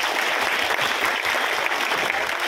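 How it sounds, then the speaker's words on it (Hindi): Loud, dense applause from an audience for saffron-robed disciples of a bhakt mandal at a cow shelter devotional gathering, steady clapping throughout with no gaps. "इनके लिए जोरदार ताली बजाएं।"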